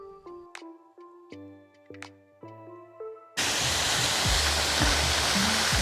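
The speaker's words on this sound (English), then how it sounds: "clearly Mr. Chicken's wife wanted a waterfall in the garden" Garden waterfall cuts in abruptly after a few seconds of melodic tones, then pours as a loud, steady, dense rush that fills the rest of the clip without talk.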